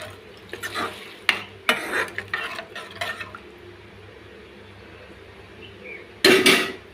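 A spoon stirs banana curry with leaves in a pot, making a series of scraping, clinking strokes against the metal early on, then a quiet stretch with a faint sizzle underneath, and a final brisk clatter of stirring.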